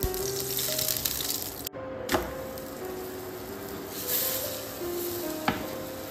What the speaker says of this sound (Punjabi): ਤਾਂ ਲਓ ਜੀ ਤਵੇ 'ਤੇ ਲਾਵਾਂਗੇ ਘਿਓ।